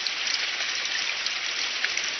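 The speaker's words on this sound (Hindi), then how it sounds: "अगर ऐसे ही बारिश होती रही तो धीरे धीरे हवाएं और तेज होंगी, बिजली कड़केगी" Steady, dense rain falls in an even hiss, loud and close, with no pauses and no voices.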